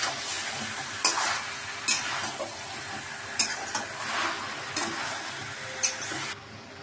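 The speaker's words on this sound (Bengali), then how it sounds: "দেখুন আমার সব সবজিগুলো একটু ভাজা ভাজা হয়ে গেছে।" Vegetables and peeled tomato for a chicken stew fry and sizzle in a pan, with repeated stirring scrapes and clinks over a constant bright hiss, close by and without talk.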